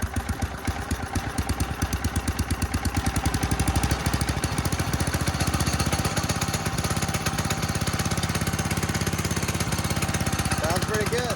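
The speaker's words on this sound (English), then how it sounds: "A little more throttle." A custom-built mini bike engine revs up as throttle is added, its rapid firing pulses quickening and holding at a loud, steady drone up close for the whole stretch.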